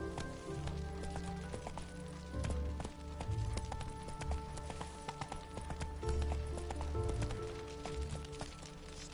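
Roach the horse gallops in The Witcher 3, hooves pounding in a quick, steady clip-clop rhythm close by, with faint background ambience and a brief vocal sound mixed in.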